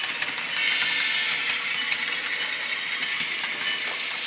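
A model railroad train pulls out of the yard after a switching cut, a steady hissing rail and motor noise running evenly throughout with faint rhythmic ticks, fairly close and with no voices.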